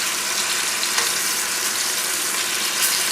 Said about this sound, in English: So all that turkey that I had cut is going into this skillet in one shot.